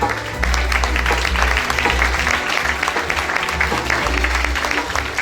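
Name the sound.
audience applause at a charity fashion show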